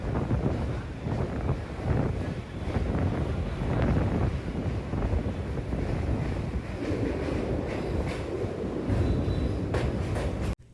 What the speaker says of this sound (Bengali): এরপর ট্রেন এসে থামল কাশী এবং তারপর বারাণসী জাংশন